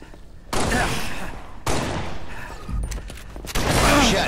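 Video game shotgun blasts, several heavy booming shots in separate bursts spaced roughly a second apart, loud and close, with game announcer callouts sounding around them.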